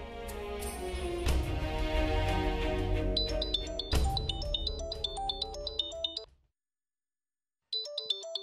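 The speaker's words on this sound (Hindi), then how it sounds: "अंश के ऑफिस से फोन" A bright electronic phone ringtone plays a repeating melodic pattern over a dense musical bed in a Hindi TV drama, cuts out briefly, then resumes alone.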